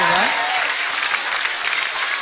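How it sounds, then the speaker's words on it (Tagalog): A crowd claps loudly in sustained applause, with a brief voice at the very start and scattered cheers and shouts mixed into the clapping. "Alam mo ba yung palakpak at sigaw ng mga tao yan?"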